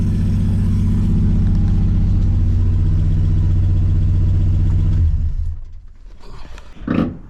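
A 1963 Plymouth Belvedere engine, revived after sitting since 1978, runs loud and steady with a deep low rumble for about five seconds, then shuts off, leaving a brief faint sound near the end.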